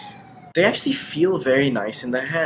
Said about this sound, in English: I apologize for the police siren in the background.